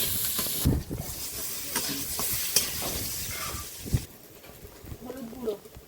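Sliced onion and panch phoron spices sizzle in hot oil in a rural Sundarban kitchen, with a steady frying hiss broken by a few clattering stirs of a spatula against the pan.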